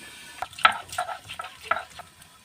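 Potatoes cooked with garlic paste are turned over in a pan. Several separate, close scraping and clattering strokes sound over a faint sizzle, with no talking.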